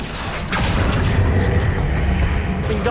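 Accio spell cast in the Hogwarts Legacy video game: a loud magical whoosh that swells after a short moment into a sustained, rumbling surge with mechanical rattling, ending in a bright shimmering crackle.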